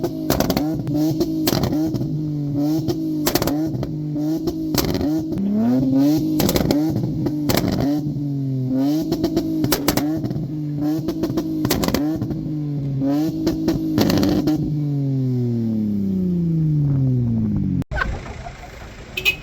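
A loud turbocharged car pulls away from an urban night car meet, engine revving hard with repeated sharp exhaust pops and bangs, pitch sweeping up and down before fading off.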